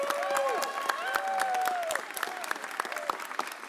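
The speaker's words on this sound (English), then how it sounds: "Give Nicole Klingerman a round of applause." An audience at a mayor's press conference applauds, a steady wash of clapping that thins into scattered claps, with a few whistles rising over it.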